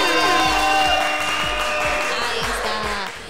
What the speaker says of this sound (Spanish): Un aplauso nuevamente para ella, por favor.